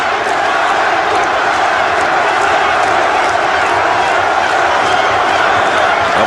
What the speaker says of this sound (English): the crowd starts up with Larry once again